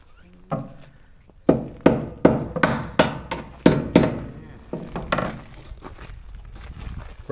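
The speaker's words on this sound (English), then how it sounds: "Brian is using my favorite hammer as the fine adjustment tool" A hammer strikes metal on a sailboat pushpit being fitted for welding: a dozen or so sharp, ringing blows in irregular bursts, close and fairly loud, with short pauses between groups.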